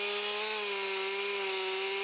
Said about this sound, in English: The chainsaw roared to life, its teeth hungry for timber.